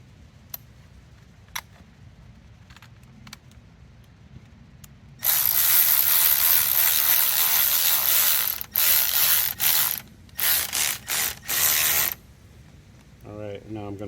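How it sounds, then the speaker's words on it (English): Ratchet tightening a clamp on a replacement air injection tube on an Oldsmobile Cutlass; a few faint clicks, then loud rapid ratcheting in long bursts broken by short pauses, close up, with a voice briefly at the end. "What I'm gonna do is tighten this up."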